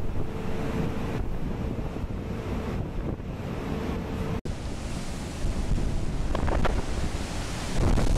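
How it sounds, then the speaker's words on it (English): Heavy North Sea storm waves crash against the Dunbar oil rig platform, a continuous loud roar of surf and spray with strong wind buffeting the microphone, swelling again after a brief dropout. "This is another clip of more waves hitting the Dunbar platform."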